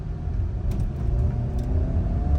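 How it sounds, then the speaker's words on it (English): A Toyota 4Runner's small four-cylinder engine drones and rises steadily, heard from inside the moving vehicle under road rumble. "that's a pretty powerful little 4-cylinder"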